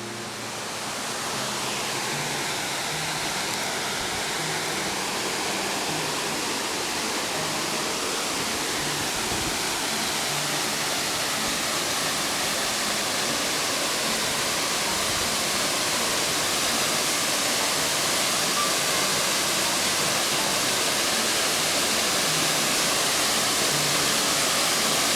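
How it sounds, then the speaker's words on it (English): Baskins Creek Falls, a waterfall in the woods, roaring as a steady, broad, unbroken rush of falling water that is loud and near and holds constant through the whole stretch. "Baskins Creek Falls."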